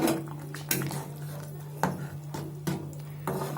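Fried rohu fish pieces go into a pot of simmering curry, giving a few sharp clinks and clatters of utensil against pot over a low steady hum, with no talk.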